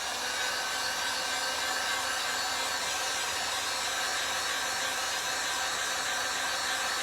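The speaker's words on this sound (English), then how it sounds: "You're gonna take your heat gun, we're just gonna dry this cup." Heat gun blowing steadily while drying a mermaid-scale wine tumbler cup, a continuous close, loud broadband hiss with no breaks and no talking.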